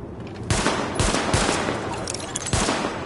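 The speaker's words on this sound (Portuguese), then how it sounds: "Teste de arma iniciado. Atire nos alvos destacados." Gunfire during a weapon test in the video game The Division, a few loud shots and short bursts hitting in quick succession, close and sharp over a steady noisy background.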